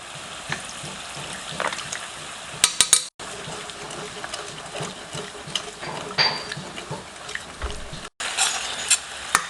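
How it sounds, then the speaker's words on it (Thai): Thai green curry paste is stir-fried in a pan with fish sauce added, bringing a quiet sizzle with frequent scraping and clinking of a spatula and occasional sharper knocks. "จะผัดให้สุกหอม แตกมันเลย"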